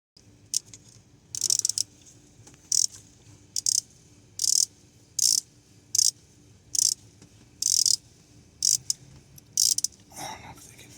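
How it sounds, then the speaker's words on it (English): A ratchet wrench turns bolts on a Chevrolet Camaro LS alternator, giving short bursts of rapid clicking repeated about a dozen times with brief pauses between, close and distinct over a quiet background. "All right, I'm gonna have to use the ratchet."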